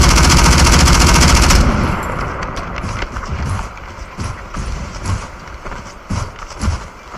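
Odin rifle gunfire in Call of Duty Mobile, a loud rapid burst of automatic shots at the start, followed by quieter scattered shots and game sounds with faint voices.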